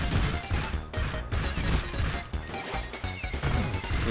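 Repeated smashing and crashing impacts from Mario breaking objects in the video game Super Mario 3D World, dense and loud, overlapping thuds and cracks over a busy game soundtrack with no talk.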